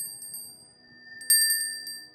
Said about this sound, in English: just a bell, just to resonate with that frequency